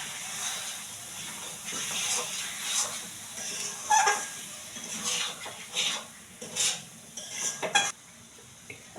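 Raw chicken goes into a pan of fried spice masala for a Bengali chicken curry, setting off a soft sizzle broken by repeated scraping, stirring and clinks of a utensil against the pan.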